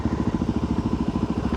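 Suzuki DRZ 400 supermoto single-cylinder engine droning at steady speed, a close, even, rapidly pulsing thump with a constant buzzy tone and no talking.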